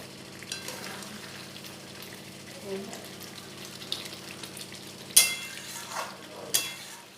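Chicken being stir-fried with spices in a pan: a low, steady sizzle with faint scraping of a spatula, broken by a couple of sharp metallic clanks near the end.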